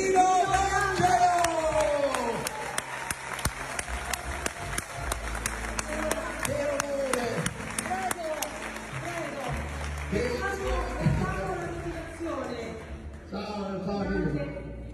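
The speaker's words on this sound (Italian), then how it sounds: "un grande applauso" Audience applause at an award ceremony, with a crowd clapping steadily in sharp rapid claps and a voice or music carrying over it for the whole stretch.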